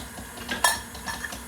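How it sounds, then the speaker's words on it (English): Whisking red velvet cake batter in a bowl gives soft, irregular scraping and tapping of metal against the bowl, with one brighter clink partway through, quiet and without speech. "Okay, I'm gonna whisk it vigorously."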